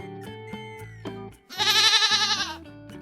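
A goat bleats from a rocky outcrop, one long wavering cry that stands clear over light background music with brief plucked notes.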